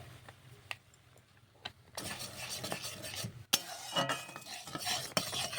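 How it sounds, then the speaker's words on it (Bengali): A spoon stirs Amul packet milk into boiling milk in a pot, making scattered clinks at first and then a fuller bubbling, scraping swirl with sharp taps against the pot. "দেখুন দুধটা ভালো করে আমি মিশিয়ে নিয়েছি"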